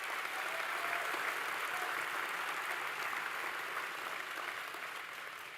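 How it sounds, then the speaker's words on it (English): Competitors applauding themselves at the WSA 2025 closing ceremony, sustained even applause from a large room that slowly tapers toward the end. "Give yourselves a round of applause."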